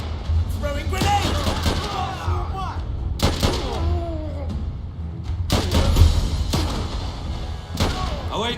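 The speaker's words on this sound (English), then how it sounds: "Throwing grenade!" Grenade explosion in a war film, heard as heavy booms and blasts over a constant low rumble of battle, with shouted voices between the hits.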